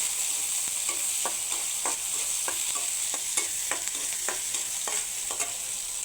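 Onions and green chillies sizzle steadily in oil for a dried-fish and jackfruit-seed curry, a constant close hiss punctuated by regular sharp scrapes of a spoon stirring the pan, with no voices.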